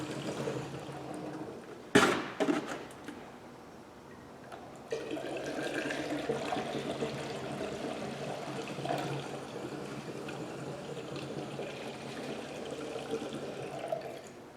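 Water is poured into a pressurized water fire extinguisher being refilled, after a sharp knock near the start. A steady, fairly quiet trickling and splashing stream runs continuously to the end, with no voices.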